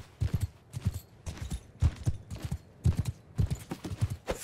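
Horse galloping in Mount and Blade Bannerlord, a loud, close series of rhythmic hoofbeat clusters repeating steadily in groups of three to four strikes, with no speech.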